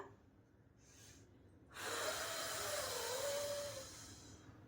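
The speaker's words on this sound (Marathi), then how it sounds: "खाली जाते जाते तसा तसा मी श्वास सोडते" A woman doing a pillow-supported exercise exhales slowly and audibly, a soft breath followed by a long, steady rushing exhale lasting about three seconds, close to the microphone and quiet overall.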